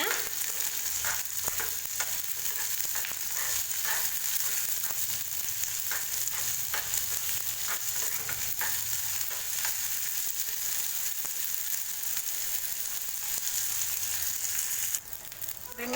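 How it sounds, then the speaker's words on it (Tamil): Onions sautéing in a pan over a low flame for a Tamil lady's finger kara kulambu, giving a steady, continuous sizzle and fry hiss with occasional stirring clicks, close and alone. "லோ ஃப்ளேம்லேயே வச்சு வெங்காயத்தை நல்லா வதக்கி விட்டுக்கோங்க."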